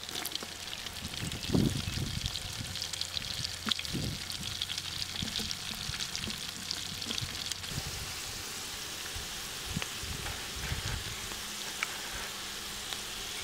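Chillies and onions fry in a pan, giving a steady, soft sizzling hiss that runs throughout with a few faint clinks and scrapes; no talking.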